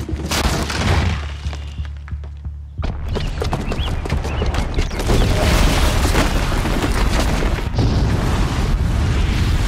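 A bomb booby trap detonates in the action game Horizon Zero Dawn: after a quieter stretch, a sudden loud boom near three seconds gives way to sustained crashing, rumbling debris and chaotic impacts.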